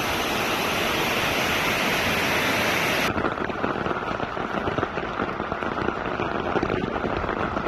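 Floodwater roars steadily through a new sewer on a flooded street, a loud continuous rush that stays dense throughout, its bright hiss dropping off partway while the heavy churn carries on.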